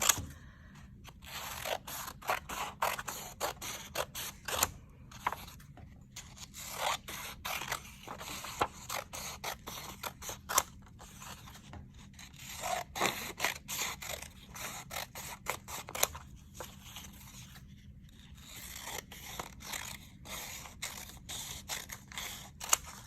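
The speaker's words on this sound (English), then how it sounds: "I'm going to cut the whole sheet of paper so I have lots of options to weave in." Scissors cut a sheet of paper into strips for paper weaving, giving a rapid run of crisp, close snips and scrapes with short pauses between cuts, quiet and with no talking.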